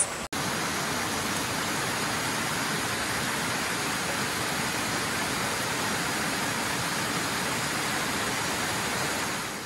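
Akame 48 Falls in Japan, where twin streams join midway and pour into a basin, roaring as a steady, broadband rush of falling water that stays loud and unbroken after a brief dropout at the start.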